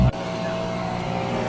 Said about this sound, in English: Want me to turn the truck on?